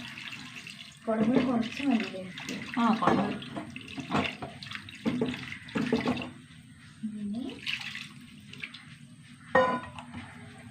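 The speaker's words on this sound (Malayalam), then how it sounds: "കുറച്ചും കൂടി വെള്ളം ഒഴിച്ചു കൊടുക്കുക" Water runs and splashes from a tap into a cooking pot of fish curry in bursts, with a person talking over it and occasional metallic clinks.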